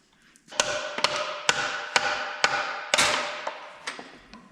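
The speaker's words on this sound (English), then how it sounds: "You got your hammer, now hit it." Seven or eight sharp metallic hammer taps land at an uneven, unhurried pace, each ringing briefly with a bright tone, fairly close.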